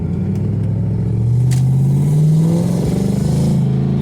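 A 2003 Ford Mustang GT with an automatic transmission rolls while its engine revs and holds a rising, steady drone, loud and near, with some clatter and no talking.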